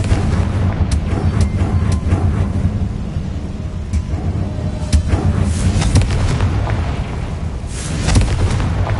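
Fire curse explosions and spell blasts from Hogwarts Legacy crack and boom in quick succession over a dense, rumbling battle din, loud and continuous with sharp bursts near the start and end.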